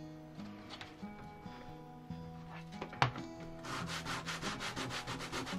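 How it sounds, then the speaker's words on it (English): Hand-held sandpaper rubbing a piece of leather for a leatherwork project, giving repeated scratchy strokes close by that grow into a faster, steadier run of rasping in the second half, with one sharp knock midway. "I pull it apart, and then I use some sandpaper"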